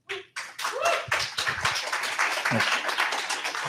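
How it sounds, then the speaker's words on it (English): Audience clapping breaks out after a thank-you at a Waze community event, a dense, steady burst of many hands that starts sharply and carries on for several seconds, with faint voices mixed in. "This is the applause section, as you can tell."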